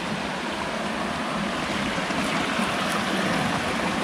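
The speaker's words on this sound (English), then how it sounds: "There's a very deep and fast flowing river." Deep, fast-flowing river near an ancient packhorse bridge in Yorkshire, a constant broad rushing wash of water that stays loud and even throughout.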